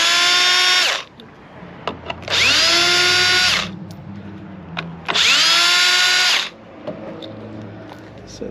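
Power drill pulling three screws from a 2014 Ford Focus rear door panel: three loud whirring bursts of about one to one and a half seconds each, each speed dropping as it stops, separated by brief pauses with faint clicks.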